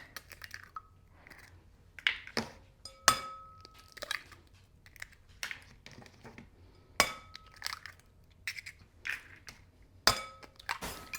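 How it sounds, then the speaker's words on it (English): Six large eggs are cracked against a bowl in a home kitchen. Sharp, quiet cracks and clinks come one after another at irregular intervals, separated by near silence. "Now I've got a bowl. I'm going to put in 6 large eggs."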